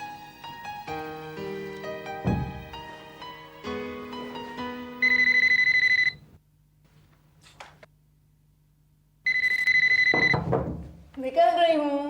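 A phone ringing indoors in bursts of loud, electronic ringtone separated by quiet gaps, mixed with dramatic background music and brief spoken voices.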